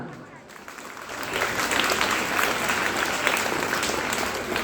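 An audience applauds at a Telangana Language Day gathering, steady clapping swelling after a brief quieter start and holding loud and dense throughout.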